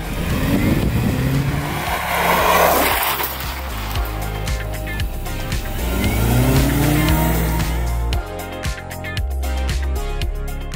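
A GWM Haval Jolion Ultra Hybrid SUV launches hard with launch control, its engine note rising in loud sweeping revs through several gear shifts, close and continuous with no talking.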